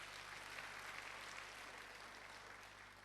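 Sustained applause from a church congregation, a dense wash of clapping that holds steady and then slowly tapers.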